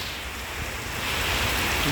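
Heavy rain pours down in Singapore near Palawan Green on Sentosa, a dense, steady hiss that swells slightly louder over a couple of seconds, with no voices.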